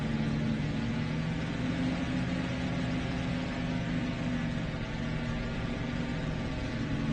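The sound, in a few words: aircraft engines running while taxiing in DCS video game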